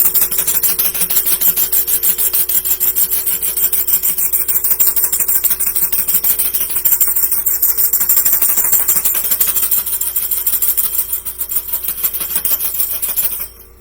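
A crystal singing bowl is played by rubbing its rim, giving a continuous close, rasping friction sound over a faint steady hum that runs for the whole stretch and then stops abruptly.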